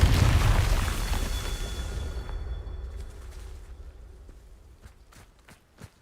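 A Confringo fire spell explosion in Hogwarts Legacy, a loud booming blast that rolls and slowly decays over several seconds, followed by a few light pops and clicks.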